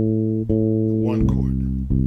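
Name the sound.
bass playing thirds of each chord in progression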